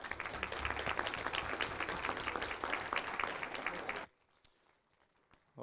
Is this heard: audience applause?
yes